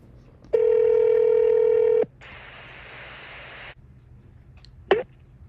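A telephone line sounds a steady tone for about a second and a half, then a burst of hissy noise follows, and a short chirp comes near the end, all fairly loud with no talking.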